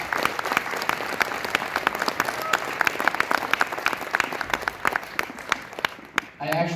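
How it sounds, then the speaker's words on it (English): Audience at a high school band concert gives a round of applause for the students and their teacher, steady dense clapping with sharp individual claps standing out, fading near the end. "Let's give the students and Ms. Hawkinsetz another round of applause."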